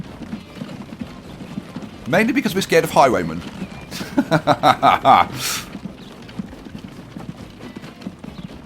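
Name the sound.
horses walking, hooves clip-clopping, in video game Transport Fever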